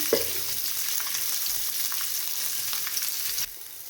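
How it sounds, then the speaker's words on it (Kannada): Onion, garlic and ginger fry in a spoon or two of oil, giving a steady close sizzle that runs unbroken, with a faint stir near the start and no talking. "1-2 ಸ್ಪೂನ್ ಎಣ್ಣೆ ಹಾಕ್ಕೊಂಡು ಅದನ್ನು ನೀಟಾಗಿ ಫ್ರೈ ಮಾಡ್ಕೊಳ್ಳೋಣ"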